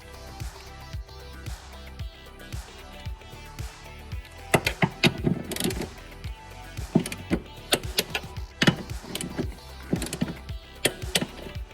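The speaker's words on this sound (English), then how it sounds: "Just adjust the torque wrench to go to 59." A torque wrench tightens aluminum bolts on an S550 Mustang, giving a series of sharp clicks and metallic ratcheting knocks in an uneven rhythm, close by, with faint shop background between them.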